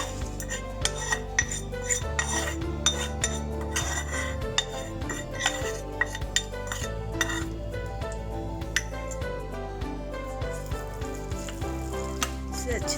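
Spoons and pans clink and scrape as boiled, mashed medium potato is stirred together with fried masala for vada pav. The clatter is steady and moderately loud, over a continuous low background hum.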